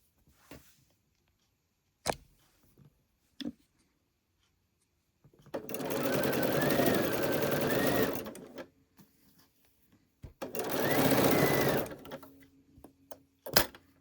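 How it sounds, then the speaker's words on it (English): A sewing machine stitches quilt block pieces in two steady, close runs of a few seconds each, with fabric handling and small clicks between them. "So I'm first going to sew the top one on."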